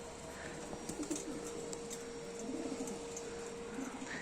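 A wild pigeon coos softly a few times, low and somewhat distant, against a steady hum of background noise.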